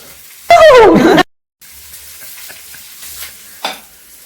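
A loud burst of sizzling as spices hit hot oil, lasting under a second, followed by quieter crackling and a brief later flare.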